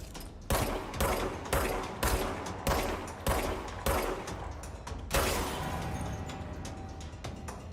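Sniper gunfire in the video game Control: a series of sharp, loud shots at roughly regular intervals, about one every half second, followed by a final heavier blast and a fading tail.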